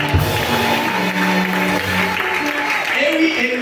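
Church congregation applauding in steady, continuous claps that fill the space, with a voice and faint music tones running underneath.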